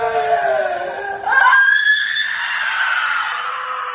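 Someone lets out a loud, drawn-out scream in a bout of scream therapy. The voice rises sharply partway through and holds a strained, wailing pitch, preceded by a brief laugh-like vocal sound.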